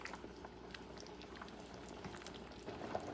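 A pot of barley and ribs stew simmering on low heat gives a faint, steady bubbling with scattered soft pops and small liquid ticks throughout.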